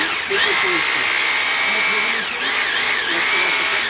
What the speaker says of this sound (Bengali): 800 ওয়াটের তুর্কির একটি হ্যামার ড্রিল মেশিন পেয়ে যাবেন